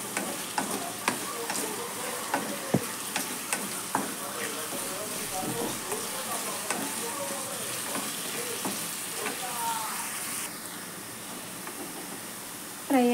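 Prawns fry in a pan on a medium flame, a constant close sizzle punctuated by regular stirring scrapes and taps, with faint voices murmuring underneath.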